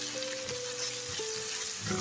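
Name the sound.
frying chilies with onions for eggplant dopiaza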